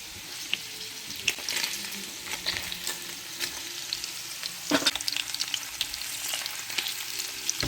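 Paneer fries in a pan of hot oil, a continuous crackling sizzle broken by scraping clinks as it's stirred and turned, close and moderately loud, without speech.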